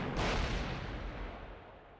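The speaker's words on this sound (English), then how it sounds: "Suddenly, there's an explosion so loud I think my eardrums are blown out." A video game explosion blasting a hole through a wall: one sudden, loud booming blast with a broad rumbling roar that slowly fades over two seconds.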